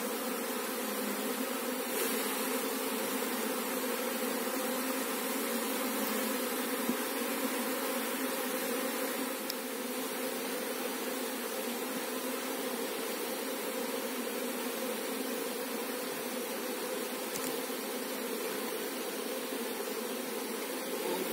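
Honey bees buzz steadily at a hive, a dense, continuous drone that stays close and even throughout with no talking over it.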